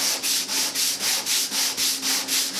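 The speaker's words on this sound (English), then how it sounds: "And let's start sanding this." A wooden antique buffet top being sanded with 150-grit sandpaper on a block, a loud, close, rhythmic rasping of even back-and-forth strokes, roughly four per second.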